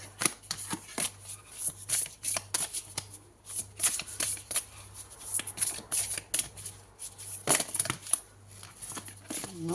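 Playing cards are shuffled during a tarot-style reading, with repeated crisp riffling and snapping bursts in close, steady succession, no voices.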